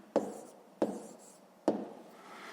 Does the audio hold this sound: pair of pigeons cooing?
no